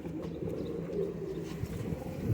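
Patti-wale (banded) pigeons in a loft setup coo softly and continuously, low throaty burbling overlapping in a close, steady murmur with no voices.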